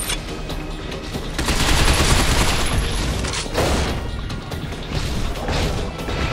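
Dense, continuous gunfire in Binary Domain aimed at a giant robot's head, loud and unbroken throughout, with crashing impacts mixed into the barrage.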